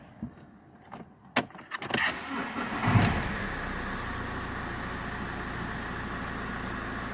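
Alfa Romeo GT Cloverleaf starting on a jump pack: keys jangle and clicks come first, then the starter cranks and the engine catches, settling into a steady, close idle.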